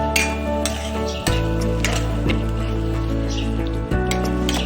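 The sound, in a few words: okra being mixed into frying masala gravy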